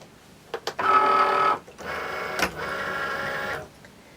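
A Cricut Maker cutting machine pulls in a cutting mat with a few short mechanical clicks, then steady whirring motor bursts with a brief clunk between them, close and alone.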